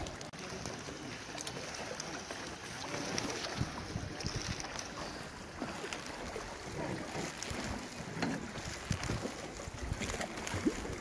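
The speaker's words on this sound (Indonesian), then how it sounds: "Mendayung." A rowboat paddled through the water at Trang An, Vietnam, gives steady, close splashing and sloshing from the oars, mixed with wind buffeting the microphone, with no clear pauses.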